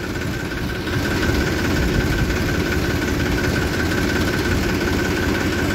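A Massey tractor engine idles in a village, a steady loud mechanical drone with a low vibrating rumble that picks up slightly after the first second and holds evenly, with no talk.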